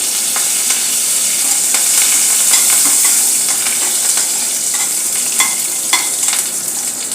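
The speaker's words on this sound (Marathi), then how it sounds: "आता आपले जिरे तडपलेले आहे यामध्ये काही कडीपत्त्याची पानं घालत आहे" Curry leaves crackle and sizzle loudly in hot oil with tempered cumin seeds for sabudana khichdi, a dense close hiss peppered with quick pops and spits.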